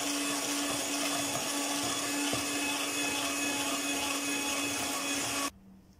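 Electric mixer beating eggs into butter and sugar for crunchy date biscuit dough, a loud, steady, close whirring drone that runs continuously, then cuts off abruptly near the end.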